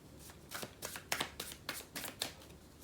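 Tarot cards being shuffled by hand, quick riffling bursts repeating roughly every third of a second, close and fairly soft with no talk.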